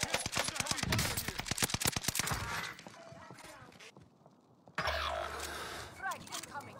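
Heavy gunfire in a battle royale video game, with bursts of rapid shots pounding loudly through the first few seconds, then fading before more muffled game sounds and brief crashing noises return.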